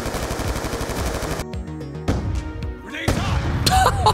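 Shotgun blasts and other gunfire ring out in a Black Ops 2 multiplayer match, a rapid run of close, loud reports followed by a brief lull and further bursts amid game sound effects.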